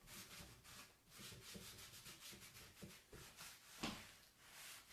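White chalk-paint wax being rubbed by hand into painted wood, a soft continuous scrubbing and brushing texture with rhythmic strokes, close and quiet, no talking.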